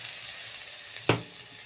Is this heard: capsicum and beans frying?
yes